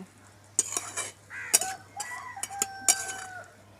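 A spoon stirs and fries spices with figs in a pan, in a dish cooked with mutton fat. Short scraping bursts repeat irregularly, with faint squeaky tones between strokes over a quiet background.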